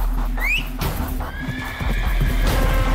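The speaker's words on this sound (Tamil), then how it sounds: "ஒரு மந்திர குதிரை அங்கே ஓடி வந்து நின்றது" A magic horse in a fantasy tale gallops up with clip-clopping hooves and loud whinnies, then comes to a stop, all close and full against a dense, busy background.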